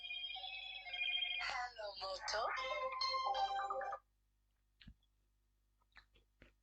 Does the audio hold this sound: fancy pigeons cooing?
no